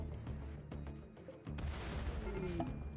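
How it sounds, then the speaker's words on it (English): Mortar fire in the video game RimWorld, a quiet volley of muffled thumps and booms in irregular succession, with a heavier rumbling blast midway and a low continuous drone beneath. "I'm going to keep firing our mortars while they approach us"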